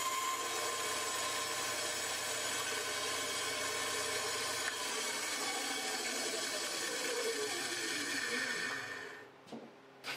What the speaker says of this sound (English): I'm doing it on my bandsaw, my tiny bandsaw, like that.